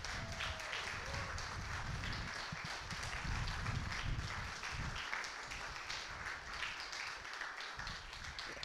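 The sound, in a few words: round of applause for the Parks crew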